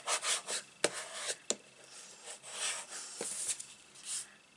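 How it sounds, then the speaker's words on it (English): A paper greeting card is rubbed from the back during card making, giving soft, close scuffing strokes mixed with a few sharp taps and light scrapes, with no talking. "I'm just going to give it a rub from the back"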